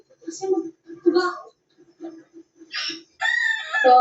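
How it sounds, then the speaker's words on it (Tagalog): Chickens cluck in short bursts, then a rooster lets out a loud, close crow near the end. "So, tapos na kami ni Julian magpakain ng manok."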